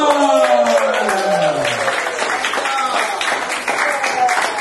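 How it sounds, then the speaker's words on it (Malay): A crowd bursts into applause, many hands clapping together at a brisk, steady pace, with a voice speaking over the start. "Tepuk tangan untuk Chaza."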